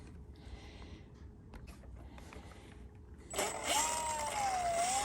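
A cordless Milwaukee M18 Fuel string trimmer, model 2828, cutting grass. The sound is quiet at first, then the motor winds up into a steady whining buzz that rises and dips in pitch as the speed changes.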